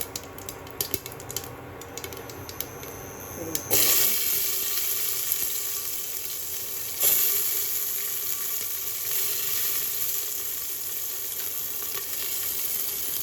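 Cumin seeds drop into hot oil and burst into a loud, bright sizzle that holds steady, with a second surge partway through after quieter clinks at the start.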